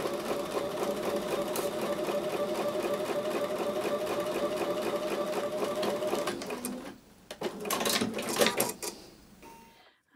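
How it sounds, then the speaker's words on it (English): A sewing machine stitches a quarter-inch seam on a diamond square quilt block, running in a fast, steady mechanical chatter for about six seconds before slowing into a few uneven bursts and stopping. "I'll take that to the sewing machine and sew with a 1/4-inch."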